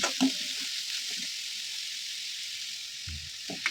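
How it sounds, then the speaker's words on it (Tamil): Onions sautéing in a pan for carrot rava upma give a faint, steady sizzle, with a few stirring scrapes at the start and near the end. "வெங்காயம் நல்லா வதங்கணும். நல்லா வதக்கி விடுங்க."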